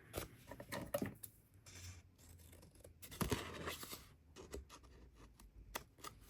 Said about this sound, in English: So we're snipping it out